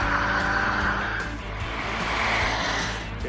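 A Subaru BRZ drives on a race track with a steady, roaring engine drone and road noise that holds throughout, with no talking.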